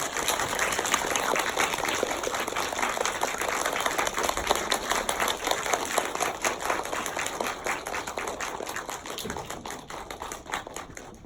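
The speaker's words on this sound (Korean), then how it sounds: "김보라 감독님 그리고 김태벽 배우님 박수로 모시겠습니다" An audience at a film talk event applauds continuously to welcome guests, a steady, fairly soft wash of clapping throughout with no speech.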